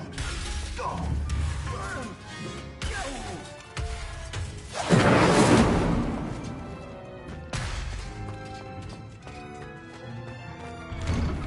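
Incendio fire spell cast in Hogwarts Legacy on PS5: a loud, broad whooshing burst of fire about midway through, standing out over ongoing game ambience, music and scattered clattering effects.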